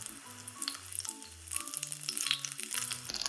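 Shrimp tempura frying in hot oil, a steady bright crackling sizzle that runs the whole time and swells louder partway through, with soft tonal clinks from the kitchen underneath and no voices.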